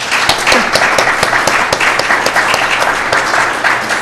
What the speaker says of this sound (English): please, you're welcome to applaud now